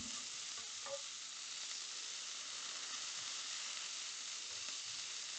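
Meatballs fry in a pan with a steady close sizzle throughout, plus occasional faint clinks of stirring.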